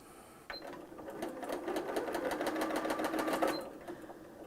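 A sewing machine starts from its start button, slowly picking up speed into a steady rhythmic needle chatter that runs for about three seconds before stopping, close and moderately loud with no talking.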